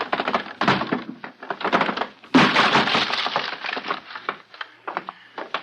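A door is broken open in a radio drama, a series of heavy splintering wooden crashes and cracking impacts, loud and close, with a big burst midway through and scattered breaking debris after.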